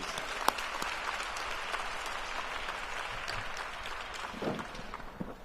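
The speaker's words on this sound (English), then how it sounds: "Let's give that last panel a round of applause, please." Soft, distant audience applause at a maternal and infant health summit, following a panel. It is a steady, even wash of clapping at low level, with a brief voice-like murmur near the end.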